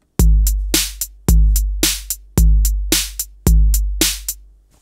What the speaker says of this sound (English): You could actually put a hi-hat on every eighth note, so we end up with eight in the bar, so it sounds like this.